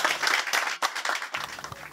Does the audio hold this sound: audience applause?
yes